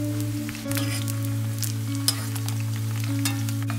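Onion, bay leaf, star anise, cinnamon and cloves are sautéed in a clay pot. They give a steady close sizzle and crackle with occasional stirring scrapes and a constant low hum underneath.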